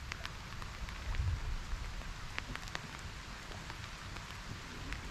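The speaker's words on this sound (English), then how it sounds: "it's rainy again this morning" Steady rain pattering on a boat at anchor on the Tensaw River, a soft, even hiss scattered with close, crisp drips and taps over a low rumble, with no voices.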